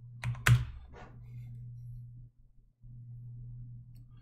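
Quick clatter of keystrokes on a loose computer keyboard, a short burst of close clicks early on, then only a steady low hum.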